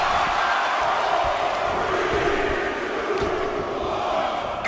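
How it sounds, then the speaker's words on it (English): A packed arena crowd in a wrestling video game roars in a steady, dense wall of noise, loud and continuous with no clear pauses as the fans chant the count. "Listen to this crowd count the next one in."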